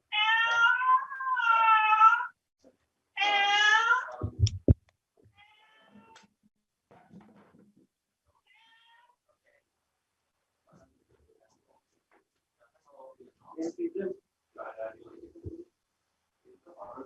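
A cat meows several times in a quiet indoor room, drawn-out loud calls close by, then a soft thud and long near-silence before faint movement and murmuring noises near the end.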